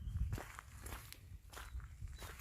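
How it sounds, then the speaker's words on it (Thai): Footsteps walking down a path toward a marigold garden in the rainy season, several soft, evenly paced steps close by on a quiet outdoor path, no talking. "ที่ผมเดินไปนี่ก็เป็นทางเดินลงไปของ"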